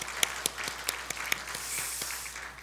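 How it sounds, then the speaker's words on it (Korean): A church congregation claps during a New Year's Sunday worship service to congratulate newly appointed members; scattered, distinct hand claps ring out at an uneven rhythm over a soft, roomy background. "우리 박수로 우리 격려하며 축하하도록 하겠습니다"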